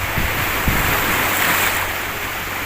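Ocean waves breaking against rocks along the shore near Isla de Talim, a loud, broad wash of surf with a couple of low thumps early on, mixed with wind noise on the microphone.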